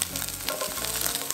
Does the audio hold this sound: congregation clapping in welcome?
no